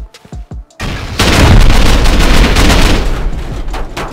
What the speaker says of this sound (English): I'll get the rocket.